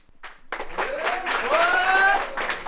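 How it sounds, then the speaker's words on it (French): Applause from an audience at an award ceremony starts after a short silence and builds into steady clapping, with voices and a few cheers rising over it. "On peut l'applaudir bien fort."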